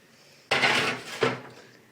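A pizza slides into an oven with two sharp clattering knocks of metal tray and oven rack, close by and short, in an otherwise quiet kitchen.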